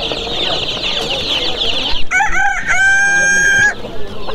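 Chickens and roosters at the Sabunchu poultry market: constant close clucking and cackling from the flock, topped by one loud, drawn-out rooster crow near the middle.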